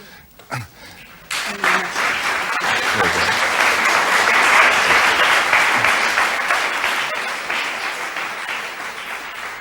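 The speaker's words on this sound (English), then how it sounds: "Applause for Sara Yanovsky at the end of this Alfred Brendel masterclass on the Sonata Opus 109 by Beethoven" Audience applause at the close of a Beethoven piano sonata masterclass, starting after a few faint sounds, swelling into a broad sustained ovation and easing slightly toward the end.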